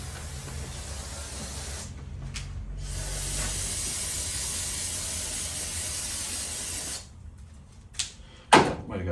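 Brake cleaner sprays from an aerosol can onto VW 1.6D diesel engine parts, making a long, steady close hiss that breaks into a few short bursts near the end, followed by a couple of handling knocks.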